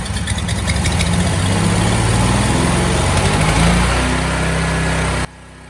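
The engine of a Lincoln Weldanpower 225 welder generator runs loud and close with a steady throbbing drone, then cuts off abruptly near the end, leaving quieter background.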